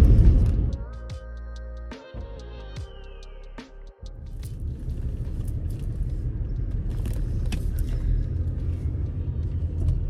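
A car sets off and drives along: a low engine rumble builds into steady road noise, close and continuous, after a few seconds of tonal in-car sounds at the start.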